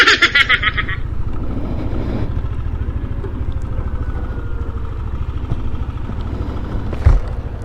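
A Yamaha NMAX 155 scooter engine starts with a short whirring crank and then settles into a steady, even idle putter close by, with a brief click near the end.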